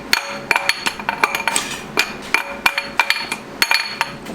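Metal hammer blows strike a car axle, sharp ringing clanks in an uneven series of about a dozen hits, close and loud with brief gaps between strikes.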